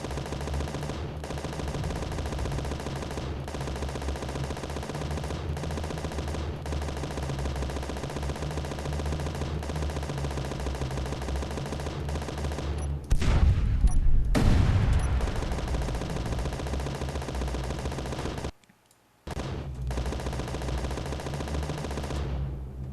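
Turret gunfire in Space Engineers rattles as a steady, continuous rapid burst throughout, swelling louder for a moment and cutting out briefly near the end before resuming.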